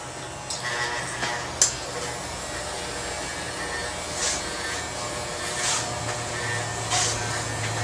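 A steady electric hair trimmer buzzes close at hand, working short hair down to a closer cut at the bottom of a flattop, with a few brief brighter scrapes as the blade passes.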